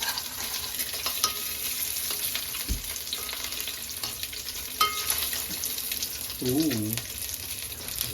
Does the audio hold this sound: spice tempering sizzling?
yes